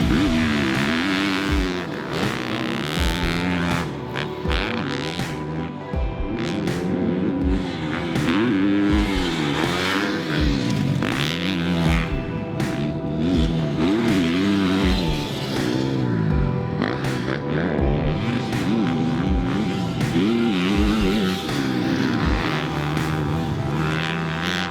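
A Yamaha FC250 motocross race bike engine revs loudly and close up, a continuous raspy four-stroke drone that rises and falls in repeated throttle blips and sustained high-rpm runs, with no voices.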